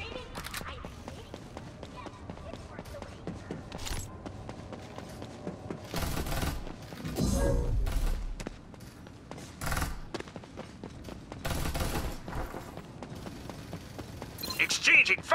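A video game firefight plays out in bursts of gunfire and impacts, loud clustered volleys breaking through a busy backdrop of game sounds, with a voice speaking over parts of the action.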